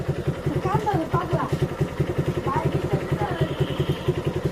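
A Suzuki Gixxer Monotone motorcycle engine idles steadily at close range, with a regular low pulsing beat throughout while a person talks over it.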